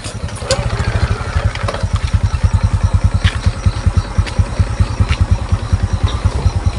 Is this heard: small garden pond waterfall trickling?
no